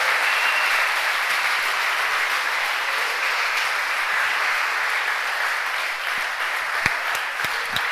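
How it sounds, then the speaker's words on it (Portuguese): A church congregation claps loudly and continuously in a large hall during a worship service, a thick wash of applause with a few sharper claps standing out near the end. "aplauda mais forte"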